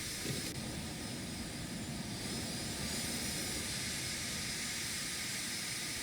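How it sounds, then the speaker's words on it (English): Embraer Phenom 300 business jet in X-Plane 12 with its number 2 turbofan engine motoring during start-up, a steady broadband roar and hiss that holds evenly throughout with no talking. "while we're motoring on our number 2 engine"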